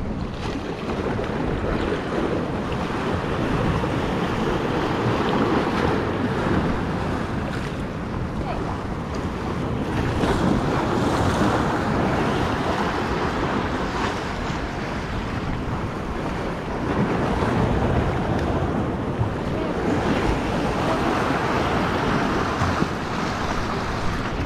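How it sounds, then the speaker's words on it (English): Ocean waves surge and break against the rock jetties at Perdido Pass, a continuous rushing wash with gusty wind buffeting the microphone, steady and fairly loud with periodic swells. "Look at the waves over there."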